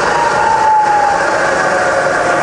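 A fully rebuilt Bridgeport milling machine spindle running in reverse gives a steady, loud mechanical whir with a sustained tonal whine, continuous and unbroken with no talk.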